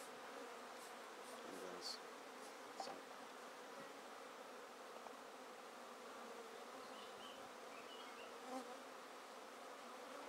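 Honey bees buzz on top of a hive box as a pagoda hive is assembled, a steady, soft swarm drone that holds throughout with no one speaking.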